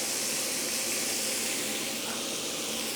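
Yakitori chicken skewers brushed with oil sizzle loudly on a griddle pan over high heat, a steady dense hiss that holds unbroken throughout.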